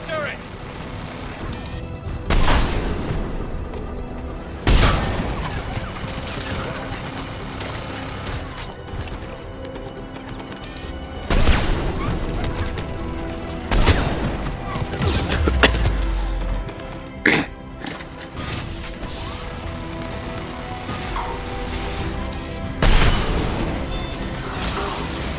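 Heavy Black Widow sniper rifle shots in Mass Effect 3 crack out at irregular intervals, each a sharp loud burst among combat noise, with a player talking between them.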